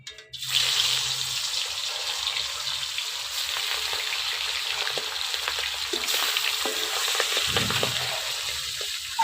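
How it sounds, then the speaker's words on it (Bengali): Hilsa fish frying in mustard oil in a thin wok, a steady close sizzle and crackle that starts abruptly and runs on with occasional soft clatter, no talking. "অল্প একটু ভাজবো মাছ, বেশি ভাজবো না।"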